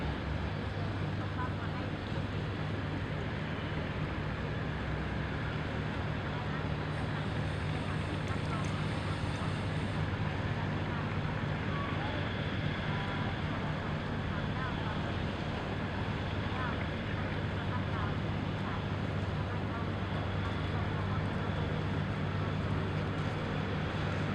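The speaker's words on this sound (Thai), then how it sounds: "อันนี้น่าจะเป็นเรือบรรทุกทราย" A sand barge on the Chao Phraya river passes by in the morning, a constant low engine drone and water wash heard from a moving boat with heavy wind rumble on the microphone.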